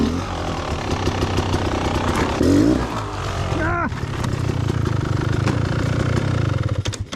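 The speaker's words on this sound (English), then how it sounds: "Nah, she's wheel spinning." Enduro motorcycle engine revving loudly as the rear wheel spins for grip on a dusty rock face during a slow hill climb, a steady roar with a sharp rev surge midway and a voice briefly heard over it.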